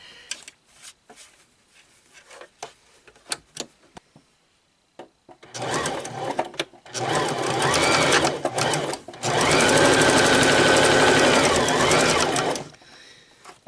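An electric sewing machine stitches fabric for a homemade face mask in loud, close bursts of rapid whirring, stopping and starting, after some quiet handling clicks and rustles.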